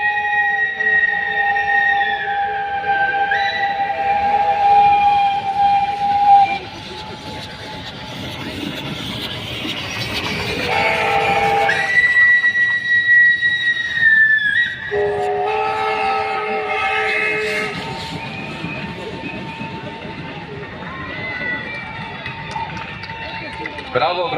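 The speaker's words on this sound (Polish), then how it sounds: "parowóz niemieckiej konstrukcji, seria BR52, który przyjechał do nas z Czech" German-built BR52 series steam locomotive from the Czech Republic rolling past at a steam locomotive parade in Wolsztyn: sustained rumble and clatter with long whistle blasts, under a commentator's voice and crowd.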